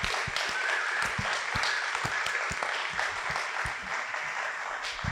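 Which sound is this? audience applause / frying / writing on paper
audience applause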